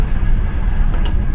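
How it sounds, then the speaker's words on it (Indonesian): A loud, steady rumble with a rushing noise fills the space, like riding inside a moving train carriage, with a few brief clicks and hisses. "Dan ini kita naik kereta 10 jam guys."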